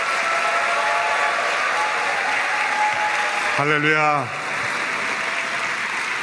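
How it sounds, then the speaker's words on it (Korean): A church congregation applauds to welcome a pastor, producing a steady, dense wash of clapping that fills the hall, while a voice briefly calls out over it near the end before the clapping fades slightly. "우리 목사님을 사랑의 마음을 담아 박수로 모시도록 하겠습니다"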